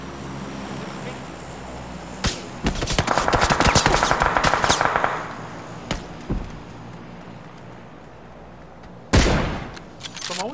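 Rapid bursts of automatic gunfire and sharp single shots in PUBG, a sustained rattling volley in the middle and a loud blast near the end.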